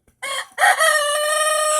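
An Americana rooster crows loudly and close by: one short opening note, then a long sustained crow.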